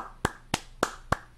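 Five sharp single hand claps, close and fairly quiet, spaced at an even rhythm about a third of a second apart with near silence between them.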